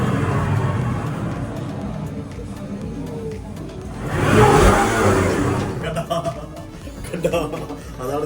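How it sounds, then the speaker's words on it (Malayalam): A Volvo bus engine in a bus simulator in Sweden starts and revs, a rising roar that swells midway and then settles, with someone talking throughout. "ബസ് സ്റ്റാർട്ട് ചെയ്യാൻ പോകുന്നു."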